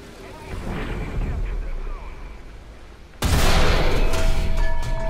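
Tank cannon fire from the AMX-30B2 Brenus in the War Thunder video game, a sudden loud boom partway through that cuts over the rumbling background battle noise and continues as a sustained blast.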